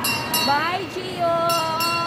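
Kids' ride-on train moving through an Ayala Center shopping mall in Cebu, with wavering tonal whines and clattering under busy indoor noise and voices.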